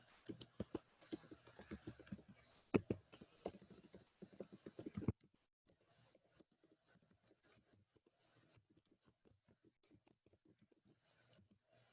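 Typing on a computer keyboard in an animal science classroom: busy, close key clatter for about five seconds, then sparser, fainter taps continuing to the end.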